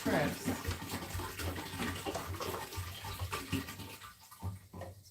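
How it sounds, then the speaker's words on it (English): Water pours steadily into the reservoir of a Lettuce Grow farm stand, a continuous close splashing and rushing fill with a constant low hum underneath. "So we have the water filling up in there."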